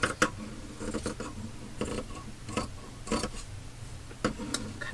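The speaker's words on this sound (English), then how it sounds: "I need to just trim that seam off." Scissors snipping off a fabric seam, a run of short, quiet, irregular cutting clicks close by against a faint background.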